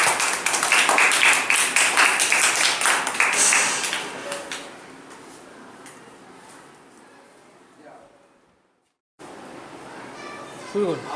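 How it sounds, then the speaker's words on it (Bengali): Applause and clapping from a group of children for a performer named Ishan, dense and lively at first, then thinning out and fading to near silence before a brief burst of sound returns at the end. "ঈশানের জন্য এখন হাততালি হয়ে যায়।"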